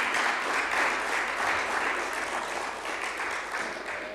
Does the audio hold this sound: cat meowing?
no